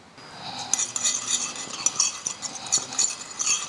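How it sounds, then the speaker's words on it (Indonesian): Utensil scraping and clinking in a bowl while soy sauce and sweet soy sauce seasoning is stirred, a steady close run of small metallic taps and scrapes with no talk. "Ini kita aduk dulu."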